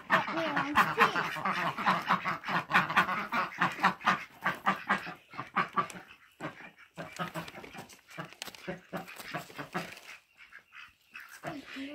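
Ducks quacking and chattering as they are fed thawed frozen peas, a dense, busy chorus of close calls that thins out toward the end with gaps between bursts.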